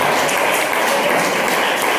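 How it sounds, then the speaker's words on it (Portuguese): A church congregation applauds, a steady, dense wash of clapping filling the room without pause or break, loud and even throughout. "Senta-se e aplaude o nome do Senhor."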